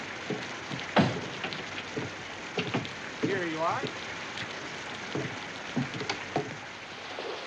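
Rain falls steadily as a soft, continuous patter, moderately near, beneath scattered short voices and a few clunks of movement.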